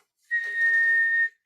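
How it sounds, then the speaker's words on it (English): One clear, steady whistle tone sounds for about a second, loud and close, in a quiet setting. "1 hears a whistle"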